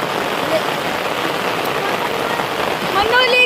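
Rain falls on a farm in Leyte as a steady, dense patter close by, continuing evenly with a few brief higher tones near the end.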